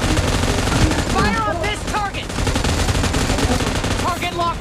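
Gunfire in a video game, dense and continuous across the whole stretch, with a voice speaking and shouting over it and brief tonal game effects rising through the mix.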